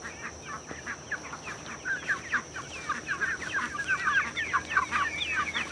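Chickens cluck steadily while pecking at grain on a small farm, a busy flock of overlapping short clucks at moderate distance over a faint steady background hum, with no talking.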